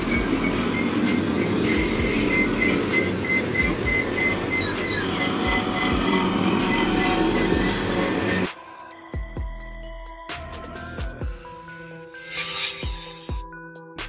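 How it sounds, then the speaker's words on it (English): Freight oil train of tanker cars rolling past with steady rumble and clatter, loud and continuous for about eight seconds, then cutting to quieter scattered clanks and squeals. "A freight train specifically designed for transporting oil or petroleum products, typically consisting of tanker cars"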